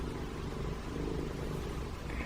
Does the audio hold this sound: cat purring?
yes